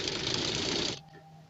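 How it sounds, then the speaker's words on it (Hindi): A sewing machine stitches along a lace edge in one short loud burst that stops abruptly, leaving a faint hum. "इस तरह मैं ना बिल्कुल किनारे पे सिलाई इसके लगा रही हूँ।"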